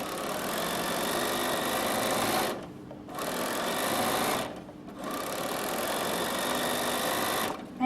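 A Bernina 7 series sewing machine stitches applique with a steady, fast mechanical whir, stopping briefly twice for short pauses before running on again, close and even in level.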